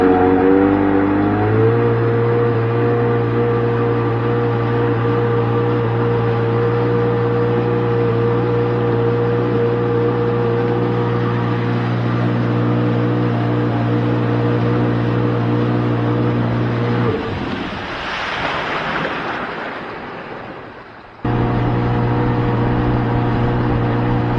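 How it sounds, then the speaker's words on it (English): Yamaha FX SHO waverunner engine on flat water, a steady loud drone with strong harmonics that surges into a rushing roar near the end, then settles back to a steady engine hum. "it's time to give this thing some gas and see how she rips"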